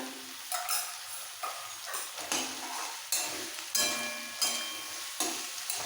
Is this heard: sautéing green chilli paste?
yes